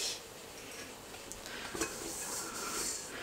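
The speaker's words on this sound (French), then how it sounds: "Je vide mon lave-vaisselle" Dishes are unloaded from a home dishwasher, with scattered light clinks and clatters of plates and cutlery over a steady background hiss. The sounds are soft and irregular.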